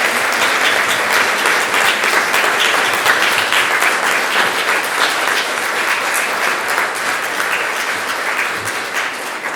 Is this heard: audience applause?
yes